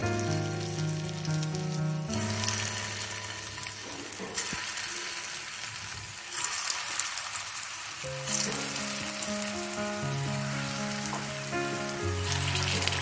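Kofta balls for dahi kofta sizzle and crackle as they fry in hot ghee in a kadai, a constant close-up hiss with little popping bursts, heard beneath steady background music.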